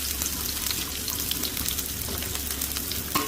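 Shallots and green chili sizzle in hot oil with spluttered mustard seeds, a steady close crackling hiss with faint stirring scrapes and no talking.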